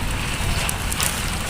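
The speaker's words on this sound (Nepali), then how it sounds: "कत्रो असिना हो बाबा कहाँबाट आउँछ यत्रो असिना" Hailstones falling during a storm over a corn farm make a dense, steady hiss of close impacts that runs unbroken for the short stretch, then cuts off abruptly.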